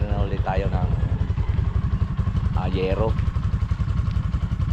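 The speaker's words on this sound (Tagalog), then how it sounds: "Kaya pinainit lang po natin yung ating motor" A motorcycle engine warming up on an early morning in the rural Philippines, idling loudly and steadily nearby in a fast even chug while someone talks over it.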